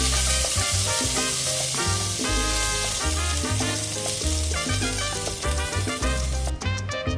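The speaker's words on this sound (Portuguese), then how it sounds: "É só uma selada rápida e vamos reservar." Pork sizzles loudly and steadily in a hot pan with olive oil for Spanish puchero, an unbroken crackling sear with other tonal sounds layered underneath.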